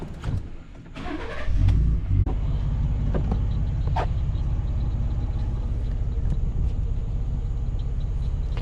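A pickup truck's engine starts and settles into a steady, close rumbling idle before driving off at 1 a.m. on a night hog hunt, with a few doors and knocks early on.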